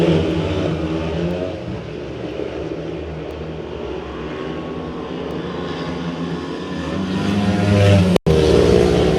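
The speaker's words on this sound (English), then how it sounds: "Edwards racing up the inside of Woolley to challenge Phillips." Speedway motorcycles race around a track in a continuous loud engine roar that swells toward the end, heard from a distance with no talking.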